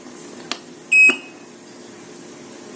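A Groomix WPC360P3 automatic water pump controller gives one short, loud electronic buzzer beep, preceded by a couple of faint button clicks, in a quiet room.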